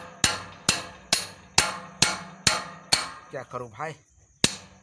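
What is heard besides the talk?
hammering a small metal angle stake into ground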